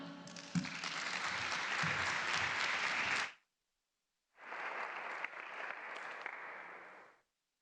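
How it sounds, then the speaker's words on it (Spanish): An oratory contest audience claps steadily and loudly for a few seconds, stops abruptly, then a second burst of applause follows after a short silence. "Recibimos con un muy fuerte aplauso a Juan Carlos Cortés Lozano."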